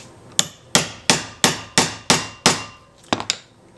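A chisel is struck with seven evenly spaced light taps while insetting a ribbon tie, close and crisp, followed by a quick cluster of softer knocks.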